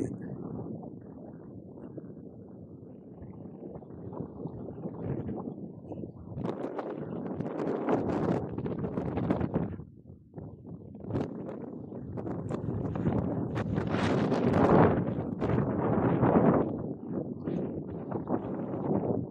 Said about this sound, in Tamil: காற்று கூடுதலான காற்று அடிக்குது.